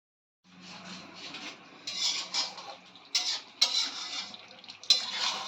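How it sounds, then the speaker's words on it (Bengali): Spiced chicken kosha is being stirred and fried in a pan, with a soft sizzle broken by irregular scraping and clinking of a utensil against the metal, close and moderately quiet. "চিকেন কষাচ্ছি বাবা।"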